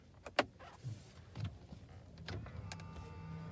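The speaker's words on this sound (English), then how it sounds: "Mirrors fold in." Power-folding side mirrors on an Isuzu D-Max X-terrain retracting, a faint steady electric motor whir after a few soft clicks, close and quiet.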